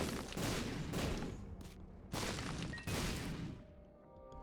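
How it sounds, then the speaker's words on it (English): Explosions in the video game The Binding of Isaac Repentance+ boom one after another, several loud broad blasts in quick succession, each decaying before the next, with a brief electronic tone at the end. "Just explosion after explosion here."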